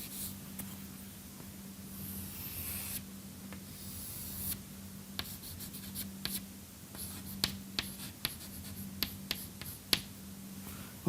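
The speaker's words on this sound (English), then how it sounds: "I should draw it the real red chalk" Red chalk drawn across a classroom blackboard during a thermodynamics lecture, heard as a series of sharp dry taps and short scratchy strokes that come closer together near the end, close and fairly quiet over a steady electrical hum.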